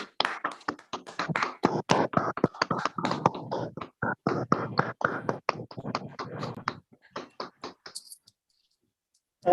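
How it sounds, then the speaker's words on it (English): Applause from participants in an online meeting with unmuted microphones, dense uneven clapping that thins out into sparse taps before stopping. "let's all unmute our microphones and give a resounding applause to this very irrepressible lady"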